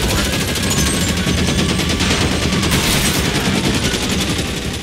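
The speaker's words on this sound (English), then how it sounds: "The unending sound of a Thompson submachine gun is a little distracting, Roy." Sustained Thompson submachine gun fire in the video game L.A. Noire, a dense, unbroken rattle of rapid shots that stays loud and close throughout with no pauses.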